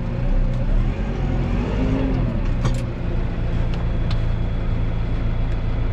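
A New Holland T5.140 tractor engine runs steadily at a limited, set rpm around 1000, a loud continuous hum close by with no notable revving.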